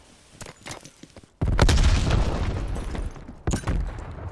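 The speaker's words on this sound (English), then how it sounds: "Throwing nade" A thrown grenade in Call of Duty Cold War goes off in a loud booming blast with a long rumbling tail, and a second sharp blast follows near the end. Faint gunfire comes before it.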